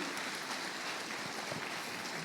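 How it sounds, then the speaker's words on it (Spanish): A church congregation applauds during a Sunday morning Spanish-language Christian service, a steady wash of many hands clapping at even loudness throughout without a break. "Dale un aplauso al Rey en esta mañana."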